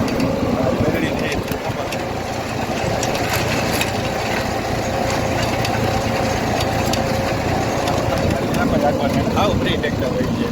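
A tractor engine runs steadily at close range, a continuous low rumbling drone with rattling and clatter throughout, while people talk over it.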